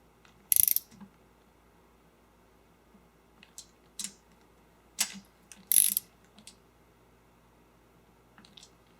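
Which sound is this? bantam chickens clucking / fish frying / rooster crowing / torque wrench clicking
torque wrench clicking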